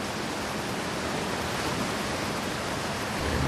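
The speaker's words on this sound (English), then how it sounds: "Waterfall." A video game waterfall rushes as a steady, dense broadband roar that stays constant and close, with no talk over it.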